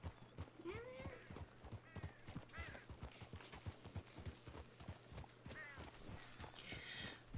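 Steady rhythmic clip-clop of horse hooves on a hard surface in a video game, with a couple of whinnies and soft chirping sounds, faint voices now and then.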